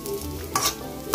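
Onion frying in a small spoonful of oil in a pan, with two brief bursts of stirring scrape and sizzle close by.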